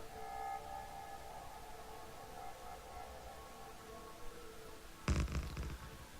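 A train in the video game Factorio, with a tonal hum that fades out, then a sudden loud clunk and rattle near the end, fairly quiet overall with no talk.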